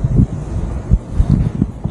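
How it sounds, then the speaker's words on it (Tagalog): Strong wind gusting across an outdoor cemetery in Bohol, heard as loud, uneven buffeting rumbles on the microphone that swell and drop throughout. "Ay, lakas ng hangin."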